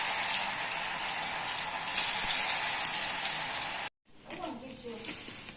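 Jackfruit fries in hot oil with a loud, dense, continuous sizzle that cuts off abruptly near the end, followed by quieter faint sounds.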